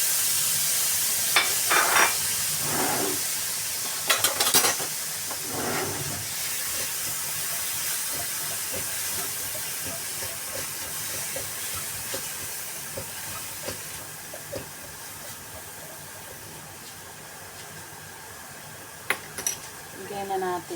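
Duck meat and ham frying in a pan as the base for garlic fried rice, a steady sizzle and hiss running throughout, with a few clattering stirs and utensil knocks near the start and end.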